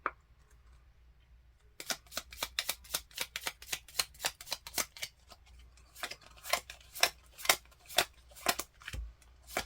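Tarot cards are shuffled and drawn, giving a quick series of crisp slapping and flicking sounds in an uneven rhythm. They sound close and clear over a quiet background.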